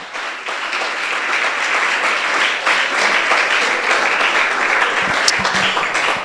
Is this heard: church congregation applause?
yes